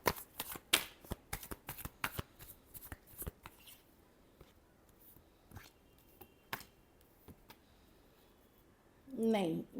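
Playing cards are shuffled by hand in a run of crisp, quick riffling bursts and snaps, close and fairly loud. A voice begins speaking at the very end.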